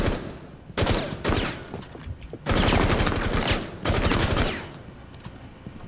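Bursts of automatic gunfire in Rainbow Six Siege come in several loud, rapid volleys separated by short pauses, with no voices over them.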